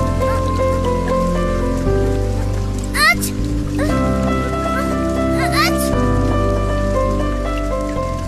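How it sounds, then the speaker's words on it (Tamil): Heavy rain falls as a steady hiss across a cartoon story scene, mixed under background music with a voice speaking briefly. "மழை வேற அதிகமா பெய்யுதே"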